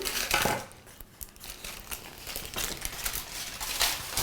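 Baking paper crinkles and rustles close by as it is pressed and smoothed into a dish while preparing a celery vegetarian roast, in short bursts with no talking.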